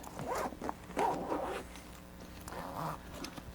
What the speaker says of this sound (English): Zipper that closed.